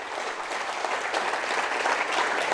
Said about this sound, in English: Ladies and gentlemen, a round of applause for Ash from Tableau.